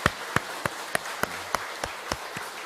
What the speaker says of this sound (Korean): 우리 옆에 있는 우리 형제님들 좀 마주 보시면서 수고했다고 우리 박수 한번 쳐줍시다